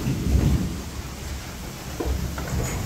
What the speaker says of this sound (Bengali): বৃষ্টি কিন্তু আইসা পড়ছে